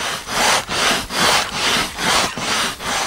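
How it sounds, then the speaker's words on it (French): A moose hide being scraped by hand to soften it, seven loud, rhythmic rasping strokes at close range, each a broad scratchy swish with brief pauses between, and no voices. "La femme et la cousine d'Isaac gratte pour l'assouplir une peau d'orignal qu'il a tuée à la chasse"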